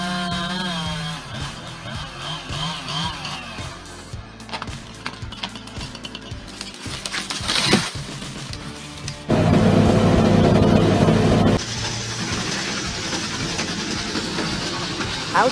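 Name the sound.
Bandit 21 XP wood chipper devouring giant trees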